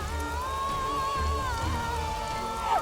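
Rain falls in an outdoor scene of a Hindi TV drama. There is a steady wash of rainfall noise with a sustained tonal music line running over it throughout, and no voices are heard.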